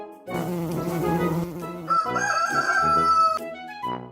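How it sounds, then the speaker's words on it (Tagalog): A rooster crows loud and close, one long drawn-out call with a rising, wavering cry, and a short cluck at the end. "Tunog ng tandang. Tiktilaok."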